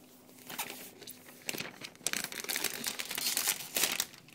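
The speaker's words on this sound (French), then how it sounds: "Il faut d'abord enlever le plastique, bien sûr. Alors, je vais enlever le plastique." Plastic wrap is peeled and pulled off a new 13-inch 2012 MacBook Air, a close series of crinkling, crackling tears that build in intensity, with no talk.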